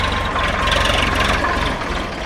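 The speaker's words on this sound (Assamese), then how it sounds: "এয়া ট্ৰেক্টৰেদি এনেকুৱা আনিছে" A tractor hauls a load of harvested maize on a wet field, its engine giving a loud, steady low rumble that stays close throughout with no voices over it.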